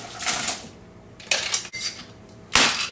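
Ice rattles hard inside a cocktail shaker holding bourbon, Amaro Nonino, Aperol and lemon juice, in three loud bursts of clattering shaking with short pauses between.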